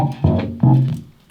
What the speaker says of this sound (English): So this is the full loop.